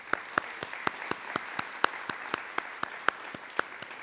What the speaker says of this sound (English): we should applaud that effort that he gave here to make these possible